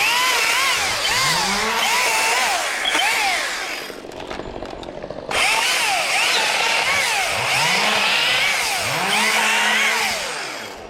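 An Echo DCS 2500T battery top handle chainsaw cuts wood up in a tree, a steady loud whine rising and falling with the cuts, broken by a short drop in load.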